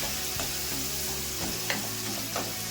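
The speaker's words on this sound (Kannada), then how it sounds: "ಇವಾಗ ಈರುಳ್ಳಿ ಹಾಕೋಣ" Two medium onions sizzle in hot oil while a spoon stirs and scrapes the pan, a steady close crackle broken by soft clinks.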